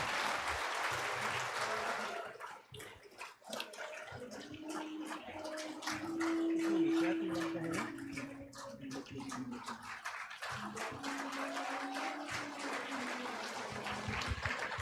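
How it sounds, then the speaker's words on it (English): An audience at a university felicitation ceremony claps in a steady, moderately loud wash that dips briefly, with a sustained tone and some murmuring under the clapping. "Can we have a big round of applause from the audience?"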